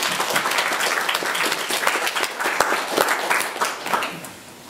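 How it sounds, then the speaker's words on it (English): Church congregation applauding steadily for the men thanked for their weekend work, dense clapping filling the room before tapering off near the end. "And that you can clap"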